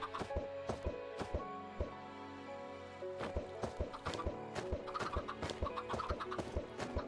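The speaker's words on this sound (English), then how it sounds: "When you hear the weird clucking sound in the mountain, you know you have found me." Steady chicken clucking repeats in modded Minecraft over a busy game soundscape with a constant musical hum and frequent sharp clicking or tapping sounds.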